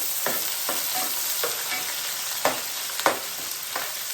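Onions sizzle steadily in hot oil with popping mustard seeds, a dense hiss broken by soft spatula scrapes and a couple of sharper clinks.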